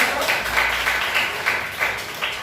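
An audience at a teachers' academic supervision session applauds, a dense burst of clapping with slightly pulsing swells, fairly close and steady throughout.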